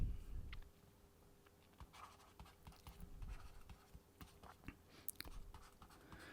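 Chalk or marker scratching on a board during a lecture on damped oscillations, soft intermittent strokes and taps scattered through the clip over a low room hum, fairly quiet and close.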